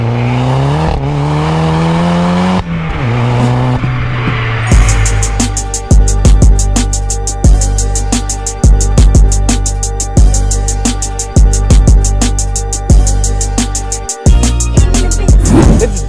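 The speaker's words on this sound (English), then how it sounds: "This is India's, oh my god, first manual convert Polo GTI, and it is an absolute monster." A 340 hp VW Polo GTI with a swapped 6-speed manual gearbox revs hard and accelerates through repeated gear changes. The loud engine note climbs in pitch and drops with each shift, close and alone.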